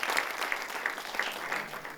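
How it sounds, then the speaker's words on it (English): Audience at a university talk on AI giving a steady round of applause, dense continuous clapping from a crowd heard at moderate distance. "can we give a huge round of applause to Rudra sir?"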